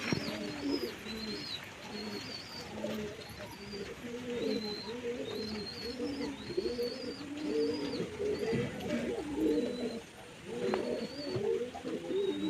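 A domestic pigeon held in the hand coos in repeated low, throaty phrases, fairly close and steady, while thin higher chirps from other birds sound in the background throughout.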